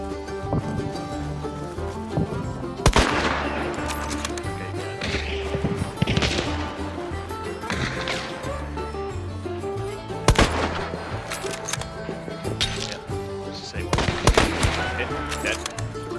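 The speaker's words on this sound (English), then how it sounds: "Shooting at me" Gunfire in the game Hunt: several sharp shots at about 3, 10.5 and 14 seconds stand out over a dense, steady bed of game sound and music, with talk mixed in.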